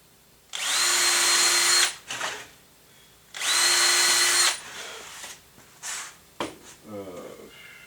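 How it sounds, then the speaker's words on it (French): A power drill bores a hole while assembling a small wooden furniture piece, with two loud sustained whirring bursts of about a second and a half each, followed by shorter clicks and handling knocks, close and clear. "Donc, je vais percer un trou."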